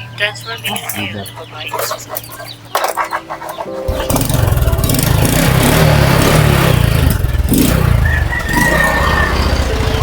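A motorcycle engine in a repair shop cranks and catches, then runs steadily and loudly at idle. People talk over it, and roosters crow nearby.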